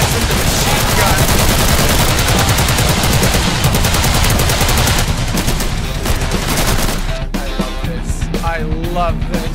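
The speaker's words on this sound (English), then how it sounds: "Got some machine guns." Machine guns fire without pause in the zombie video game Men of the Dead, a loud, dense stream of rapid shots that thins out near the end, with a voice talking over the gunfire.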